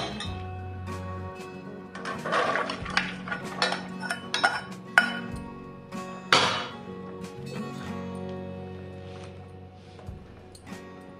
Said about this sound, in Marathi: त्यात आता आपण शिजवलेले शेंगदाणे ओतून घेऊ